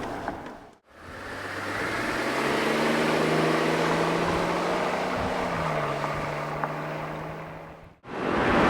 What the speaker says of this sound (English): We're out on the highway, cruising at highway speeds.